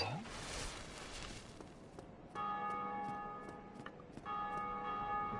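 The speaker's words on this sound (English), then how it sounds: "I heard some bells ringing." Church bells ring out in the video game Dark Souls, a series of clear, sustained tolls that overlap and repeat, moderately distant over a faint background hiss with no talking.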